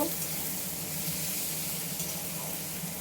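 A spice mixture with tomato and onion being stir-fried in a pan, giving a steady, even sizzle throughout, close and unaccompanied by speech.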